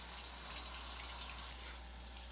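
Warm tap water runs steadily into a sink during handwashing, a continuous close hiss and splash with a low steady hum underneath.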